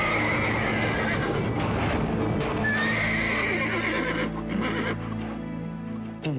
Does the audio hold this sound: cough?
no